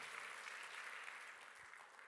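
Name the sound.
congregation clapping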